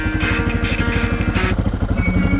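A motorcycle engine runs in gear, its steady low pulsing throb close and continuous, with a handlebar-mounted Bluetooth audio speaker system fitted on the bike.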